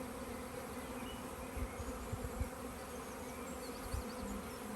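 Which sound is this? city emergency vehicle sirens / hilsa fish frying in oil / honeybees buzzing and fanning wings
honeybees buzzing and fanning wings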